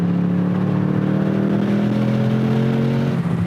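A Toyota Supra sports car cruising on a race track, its engine holding a steady, loud drone with a faint rising pitch throughout, close and continuous with no talk.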